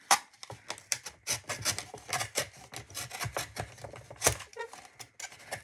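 A knife cuts into an empty ribbon spool, giving a string of close, dry scraping and rasping strokes in an irregular rhythm, each short and sharp, with no voice over them.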